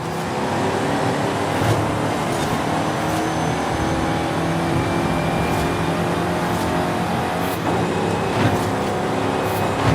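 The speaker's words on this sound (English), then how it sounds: "We got a Hemi in it. That's all the nice noise." A powerful Hemi V8 car engine roars steadily and loudly, with bursts of revving, and no voices can be heard.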